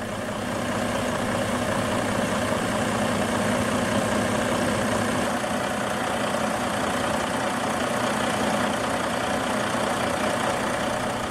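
A 2013 Western Star 4900SF truck with a 600-horsepower Detroit DD16 diesel and Fuller 18-speed transmission idles steadily and loudly, a constant low rumble with no speech throughout.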